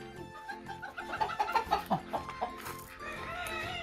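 Chickens and chicks cluck in a quick series of short, close calls, some sharper squawks mixed in, with a steady low background hum.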